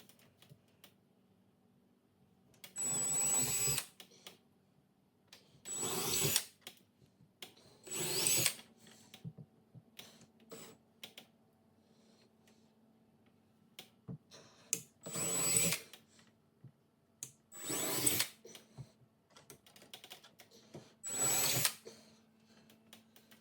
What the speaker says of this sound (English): this is a 1/4 inch drill bit that we're going to be drilling these holes with